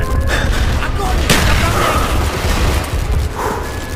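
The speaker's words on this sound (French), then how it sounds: "On vous tire dessus!" Gunfire and explosions from the Call of Duty Black Ops campaign mode, a dense continuous battle din with one sharp blast near the middle and a steady loud roar throughout.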